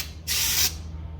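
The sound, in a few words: spraying brake cleaner into a drift car's intake manifold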